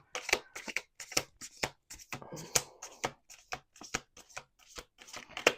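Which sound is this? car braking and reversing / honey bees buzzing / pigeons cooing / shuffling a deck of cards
shuffling a deck of cards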